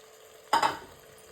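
Boiled goat lung being sautéed and stirred in masala in a pan: a single short burst of scraping and sizzling, close and fairly loud, then a quiet background with no talking.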